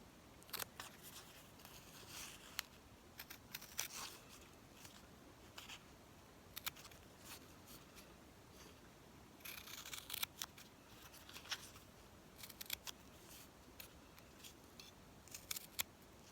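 Scissors cutting out Halloween bunting, a series of crisp, irregular snips and paper rustles spread across the stretch, fairly close and with no talking.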